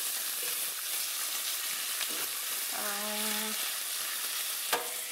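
Onion-spiced lamb chops fry steadily in a non-stick pan, a continuous close sizzle with occasional clicks of tongs, and a brief spoken phrase in the middle.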